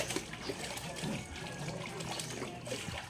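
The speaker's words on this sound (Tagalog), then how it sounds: "Sobrang bilis yung pressure ng tubig nila." Water gushes steadily from a high-pressure tap during laundry washing, a continuous close splashing rush with no talk.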